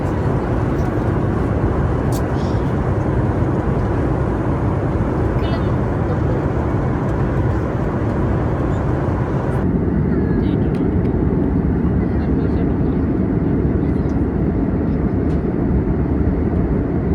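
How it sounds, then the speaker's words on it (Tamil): Passenger jet on a Bengaluru to Goa flight taking off, a loud steady engine roar heard from inside the cabin, continuous and dense throughout, with faint cabin sounds. "பெங்களூர் டு கோவா ஃப்ளைட் வந்து டேக் ஆஃப் ஆக ஆரம்பிச்சது."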